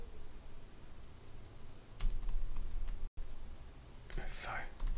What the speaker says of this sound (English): Just part of my typing.